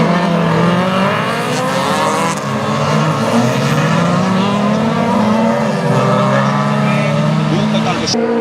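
Autocross race car at an event in Arteixo, its engine droning loud and steady as it accelerates off the start, a continuous rising motor tone throughout with commentary running over it.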